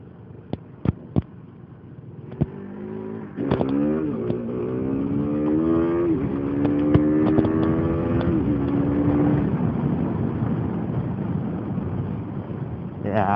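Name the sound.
motorcycle doing a power wheelie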